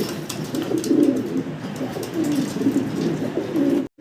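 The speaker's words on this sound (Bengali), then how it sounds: "বিশাল সাইজের কবুতর" A pair of big-sized pigeons kept for breeding coo in repeated low rolling phrases, close and steady, with no talking.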